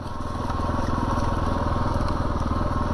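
A 2022 Kawasaki KLR 650 motorcycle engine thrums loudly and steadily on a rocky trail while metallic rattling and clattering from rocks striking the skid plate pile on top in rapid bursts.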